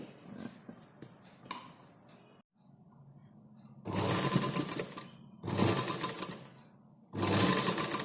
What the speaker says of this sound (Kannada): ಈ ಲೈನಿಂಗ್ ಬಟ್ಟೆ ಮೇಲೆ ಆದಷ್ಟು ತುದಿಗೇನೆ ಹೊಲಿಗೆನ ಹಾಕೊಳ್ಳಿ.